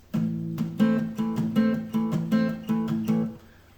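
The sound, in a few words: fast palm-muted guitar strumming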